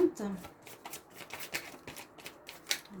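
Tarot cards being shuffled by hand for a reading, giving a run of quick papery riffles and soft taps at close range, with no one speaking over them.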